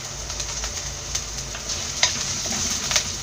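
Curry leaves, shallots, ginger and garlic sauté in a hot pan, giving a steady close sizzle broken by a few sharp crackles and stirring scrapes, with no talking.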